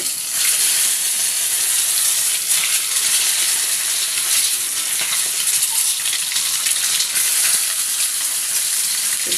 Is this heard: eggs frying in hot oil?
yes